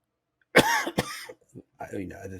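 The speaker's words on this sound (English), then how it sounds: "I apologize for coughing, by the way." A man who has had a bug for over a week coughs sharply twice, close up, then starts talking again.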